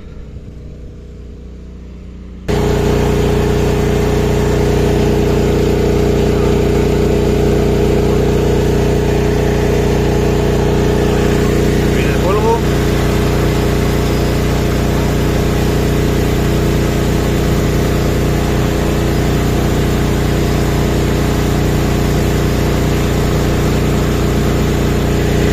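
A DJI Agras T40 agricultural spraying drone, with doubled motors, drones steadily for over twenty seconds while applying spray in a field. The whirring begins abruptly and holds loud and unbroken, with no voices.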